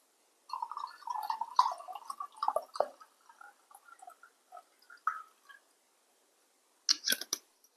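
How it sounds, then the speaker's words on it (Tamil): Water is poured into a glass of Dutchman Premium Brandy in a quiet room, with a short run of trickling and splashing followed by a few small drips and clinks, then a brief burst near the end. "நம்ம இதில் தண்ணி ஊற்றி ட்ரை பண்ணுவோம்"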